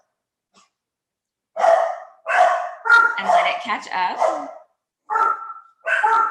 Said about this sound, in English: If you hear some dogs barking, there's 3 of them here